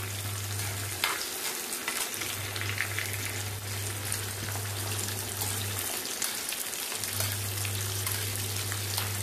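Green chilies sizzle steadily in hot ghee in a pan while dhal is being made; a continuous crackling fry runs close and even, with a low electrical hum underneath.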